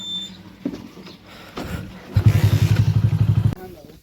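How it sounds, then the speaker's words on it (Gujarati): A Honda motorcycle revs up close by with a rapid, throbbing engine pulse lasting over a second. Brief rustling and a voice come before it. "જો આપણે હોન્ડા લઈને જવું છે"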